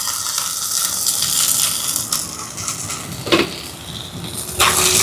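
Shallots, garlic and dried chillies sauté in a pan with a steady crackling sizzle, broken by a few sharp scraping clinks of a spoon against metal.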